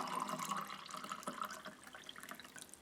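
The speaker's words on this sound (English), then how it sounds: "And then we'll pour some of our drink." Sports energy drink poured from a pouch into a container, giving a steady, close liquid trickle and splash that tapers off toward the end, with no talking.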